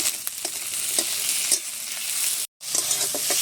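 Chopped tomatoes frying and being stirred in a pan, a steady close sizzle with scraping stir strokes, briefly cut off by a moment of silence before the sizzling resumes.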